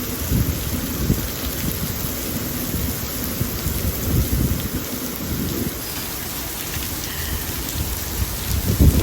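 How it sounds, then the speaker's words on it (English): Heavy rain pours down steadily in New Orleans, with deep rumbles of thunder rolling beneath a dense, constant wash of falling water, loud and close with no voices. "It is now pouring down rain."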